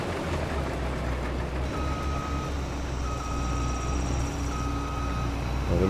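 A vehicle backs up in Farming Simulator 22 while hauling a nearly full grain trailer, its reversing alarm sounding in evenly spaced beeps over a constant low engine rumble.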